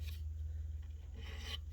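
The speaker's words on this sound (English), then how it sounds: "how the file is working with the wood" A hand file rasps in one-direction strokes across the old finish of a maple Fender guitar fretboard, quiet and close over a steady low hum.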